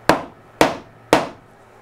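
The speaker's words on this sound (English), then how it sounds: "And with a hammer, just drive them in." Three sharp hammer strikes driving T-nuts into wood, evenly spaced about half a second apart, close and crisp with short ringing decays.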